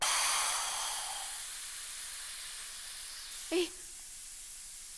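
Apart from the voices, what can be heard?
pressure cooker whistle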